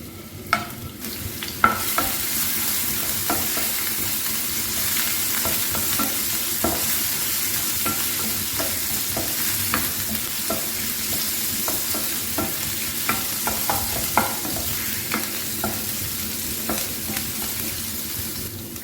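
Ginger garlic paste frying in oil in a pan gives a steady sizzle, with frequent scraping and stirring clicks from a spoon throughout.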